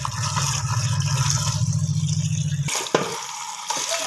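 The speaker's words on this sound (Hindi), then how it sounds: "अब इनको मैं अच्छी तरह से वाश करूंगी।" Salted bitter gourds being washed under running water in a kitchen sink, a steady gushing pour that cuts off partway, followed by a few faint wet handling clicks and knocks.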